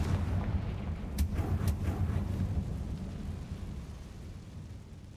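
A Confringo blasting spell explodes in Hogwarts Legacy on hard difficulty, a deep rumbling boom with a couple of sharp cracks early on, then a long low roar that slowly fades.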